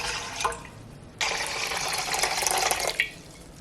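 Filtered water from a refrigerator dispenser pours into a mixing bowl for sourdough sandwich bread dough, a brief splash and then a longer steady stream that stops abruptly, close and fairly loud.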